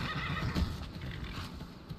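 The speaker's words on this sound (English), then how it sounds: "Probably just gonna have to do the horse call." A horse whinnies in Skyrim, answering a rider's call with a fairly quiet, breathy neigh over a steady background wash and no talking.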